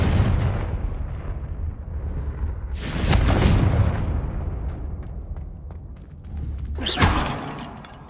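Blasts of the Confringo fire spell in the video game Hogwarts Legacy: loud booming explosions with rumbling tails, a big one midway and another near the end over ongoing low game rumble.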